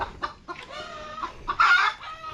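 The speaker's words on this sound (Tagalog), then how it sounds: "May manok pala dito." A chicken clucks in short, close bursts, ending with a louder drawn-out squawk, with no talking.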